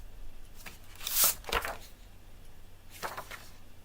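Scissors or a paper trimmer cut through a 5 by 7.5 inch sheet of patterned craft paper for a mini album, giving a few short crisp snips and rasps close by with no talking.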